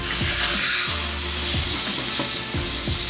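Irish grass-fed steak hits an oiled half-moon griddle with a loud, continuous sizzle and frying hiss, with faint scraping and tapping sounds scattered through it.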